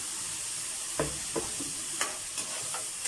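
Filipino sautéed papaya dish with fish sauce and shredded fried chicken stirred in a pan, giving a quiet steady sizzle broken by several short scraping stirs of a utensil.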